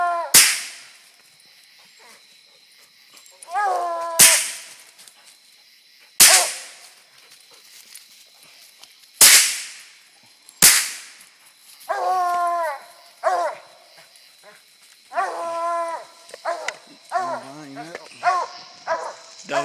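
Several loud, sharp gunshots crack out during a nighttime coon hunt with Walker hound pups treeing a boar raccoon, each report decaying quickly, while dogs bark and bay repeatedly nearby.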